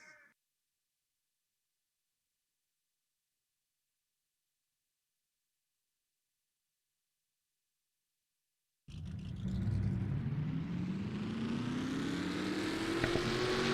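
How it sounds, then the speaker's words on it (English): Race car engines firing up and rolling off together in a racing video game, stock cars at Oswego: near-silence, then a sudden loud surge of layered engine drone with rising revs that holds steadily to the end. "Drivers, start your engines!"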